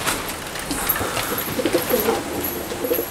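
Domestic flying pigeons in a home loft coo in short soft phrases, a few close calls repeating through the middle and end over a busy background of other birds and faint chirps.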